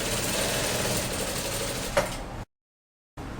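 An MS910-D direct-drive lockstitch sewing machine runs in a steady, fairly quiet mechanical whir, with a brief louder tick near the end before a short silence and a resumed hum.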